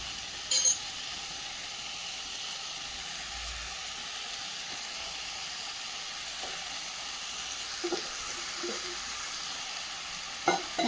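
White pumpkin pieces sizzle in a pan with sautéed onions and tomatoes for sambar, a constant close frying hiss with a few brief clicks of stirring scattered through.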